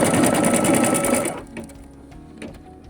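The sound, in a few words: embroidery machine stitching a tack-down stitch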